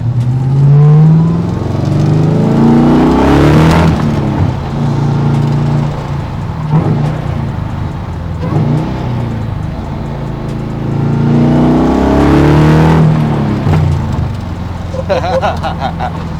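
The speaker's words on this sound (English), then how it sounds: "We're cruising right now in 4th gear." A supercharged C2 Corvette split window rumbles along in fourth gear, its steady engine drone swelling in a couple of broad surges as it cruises past nearby walls, with someone talking over it.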